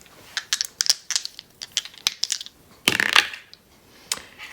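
Astrology dice rolled across a hard surface, a quick cluster of sharp clicking clatters and tumbling rattles, then a louder burst and one last tap as they settle.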